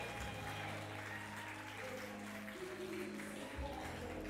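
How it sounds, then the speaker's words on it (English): Audience applause at a ministerial service excellence awards ceremony as a woman comes to the stage, a sustained steady wash of clapping from a large crowd filling the hall, with faint voices underneath. "Give her a round of applause as she comes to the stage"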